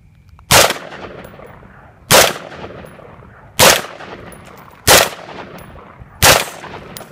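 Five loud, close gunshots from a real firearm ring out at a steady pace, roughly one every second and a half, each cracking sharply and decaying into a short echo.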